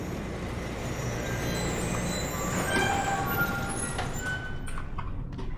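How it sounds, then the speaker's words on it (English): A train rumbles steadily along a railway in Bendy and the Ink Machine on the Buddy Boris Railway, a dense, continuous mechanical roar with faint metallic squeals, fading slightly near the end. "Choo-choo train."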